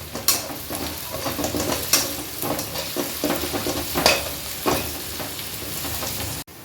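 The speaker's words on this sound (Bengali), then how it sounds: "এবার একটু নাড়িয়ে দিচ্ছি" Ghee and rice for chicken biryani sizzle in a pan while a spoon stirs through them in repeated scraping strokes, the frying hiss steady and close with no talk.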